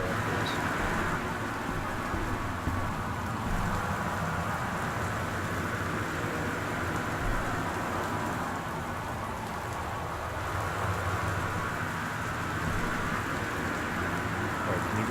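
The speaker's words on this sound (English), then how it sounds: "there's a lot of rain and stuff coming from outside" Steady rain falls outside a house in the game Gone Home, a constant broad wash that holds at an even level throughout.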